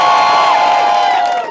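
A crowd at an Edinburgh Fringe comedy heat cheers and whoops in a short, loud, dense burst.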